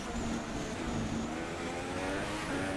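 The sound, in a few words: F1 car engine in the F1 2016 video game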